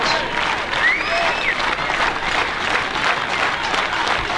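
A baseball crowd applauds and cheers at a Yakima Valley Pippins vs Victoria HarbourCats game, steady loud clapping and shouting in a 9th-inning pressure moment, with no talk over it.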